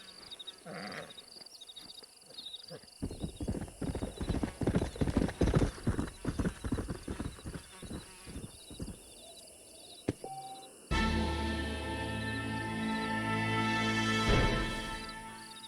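A stallion's hooves clip-clopping in the western video game Red Dead Redemption, a close rhythmic run of hoofbeats that stops, followed by a whinny and a swell of music.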